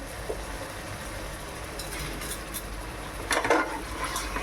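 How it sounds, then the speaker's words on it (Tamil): Half a kilo of chicken is stirred and sautéed in a pan for hotel-style biryani: a spoon scrapes and clinks against metal over a low sizzle, with a louder clatter of utensil strikes near the end. "சிக்கன் 1/2 கிலோ அதை போட்டு நல்லா வதக்கிக்கலாம்."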